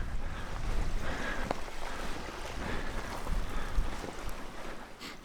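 Cold wind blowing at a lakeshore on a +5 degree summer day, a steady rushing buffet against the microphone with faint lapping water underneath, no voices.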